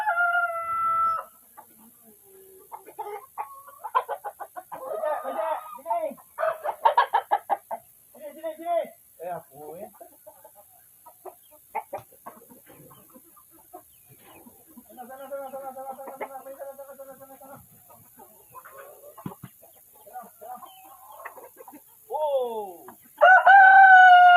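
Chickens and roosters at a village backcross breeding pen cluck and crow repeatedly, with one loud crow near the end, while people talk nearby.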